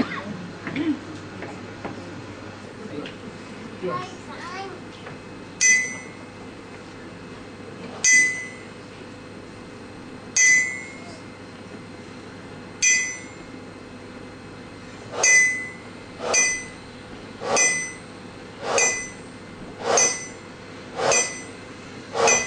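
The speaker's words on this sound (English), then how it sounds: "made this anvil and the chisels that I'm playing with" Handmade anvil and chisels struck as a musical instrument ring out in bright metallic clinks, about ten distinct strikes spaced a couple of seconds apart and quickening toward the end, each with a clear sustained ringing tone.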